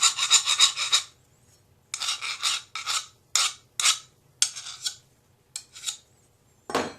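A cheap steel hand chisel is sharpened in short rasping strokes, a string of close, scraping bursts of uneven length with quiet gaps between, no voices.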